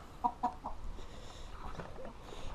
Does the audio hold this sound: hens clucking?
yes